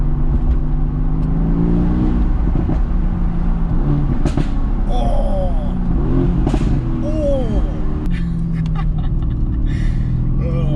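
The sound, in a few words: Mercedes-AMG car engine revving while driving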